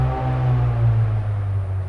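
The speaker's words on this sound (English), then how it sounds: "And you can hear an airboat in the background." An airboat engine drones in the background near a fruit tree orchard, a steady low hum that holds throughout with no voices.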